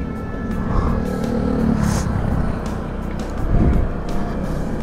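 A Honda ADV 150 scooter is ridden, its engine droning steadily with wind rush around the rider, close and fairly loud, rising slightly near the end, with no talking.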